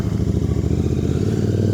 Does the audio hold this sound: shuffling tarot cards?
no